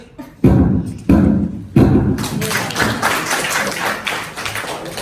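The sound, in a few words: gavel knocking to ratify a village budget decision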